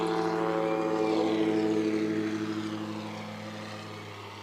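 A STOL propeller aircraft makes a short takeoff at an air show competition. The steady droning engine is loud at first and slowly fades as the plane climbs away.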